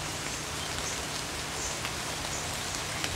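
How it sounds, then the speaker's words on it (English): Soft, steady patter of rain with scattered drops, faint and continuous like rainfall pattering through foliage, with no talking. "Hear the raindrops running through the leaves."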